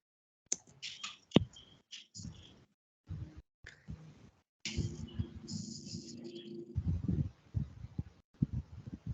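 Fingers tap on a computer keyboard in quick irregular bursts of light clicks, close and faint, broken by short pauses, with soft speech from an online meeting mixed in.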